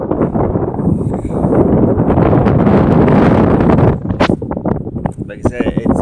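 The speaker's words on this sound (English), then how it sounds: "it's extremely windy out. It makes it hard to make a good video so you can actually hear it." Strong gusts buffet a microphone outdoors in a windy calving paddock, a loud rumbling roar that swells and eases, with speech-like fragments mixed in under the wind.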